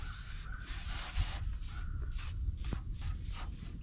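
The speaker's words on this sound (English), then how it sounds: "I'm going to spray the dickens out of this guy. This little olive oil." Olive oil spray can hissing in repeated short bursts onto chili dog pie ingredients at a lakeside campsite, close and fairly steady, with faint outdoor ambience and no talking.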